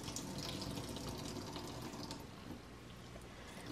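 Water squeezed out of grated squash by hand while preparing pupusa filling, a steady close splashing trickle that runs unbroken for a few seconds and eases slightly toward the end, with no talking.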